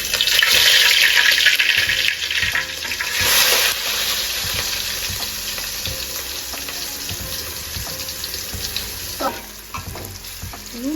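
Crushed small shallots stir-fry in a hot pan for a home-style chicken fry, with a loud, steady sizzle and occasional scrapes and clacks of stirring throughout.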